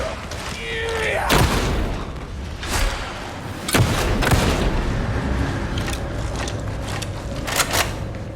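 Weapons fire in a video game battle against a pulse burster: several heavy booming shots and thuds at irregular intervals over a busy, noisy background.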